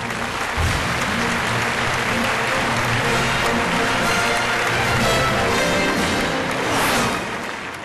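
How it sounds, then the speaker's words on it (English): An award-ceremony audience applauds a business award recipient, with sustained, even clapping from a large crowd that swells slightly near the end and then tapers. "Ladies and gentlemen, a big round of applause for Mr."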